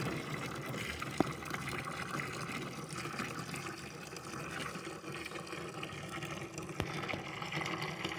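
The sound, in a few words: water flowing out of a siphon hose from a water-logged well tank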